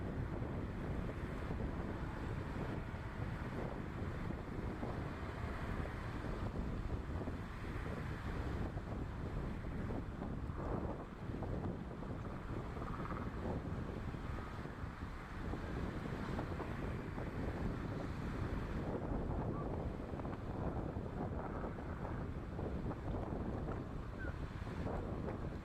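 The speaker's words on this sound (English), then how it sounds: "Today there was a strong sea breeze gusting up to 20 knots on the Swan River" A strong sea breeze gusting up to 20 knots on the Swan River in Perth buffets the microphone around racing sailboats, a constant loud roar of wind mixed with splashing water and hull noise.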